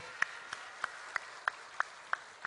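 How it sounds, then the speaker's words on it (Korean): Sparse, faint clapping from a church congregation during a Sunday worship service: a handful of separate claps at a steady pace, spaced about a third of a second apart, distant and soft. "우리 하나님께 감사 박수"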